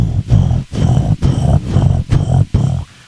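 Lions roar in a loud, close series of about six deep, rumbling bursts, each separated by a short breath-like gap, with no talk over them.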